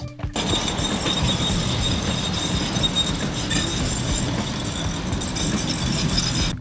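A tram car runs along rails through a city street in Ulan-Ude, giving a steady, loud rolling rumble with faint wheel squeal and rail clatter that holds throughout, with no talking.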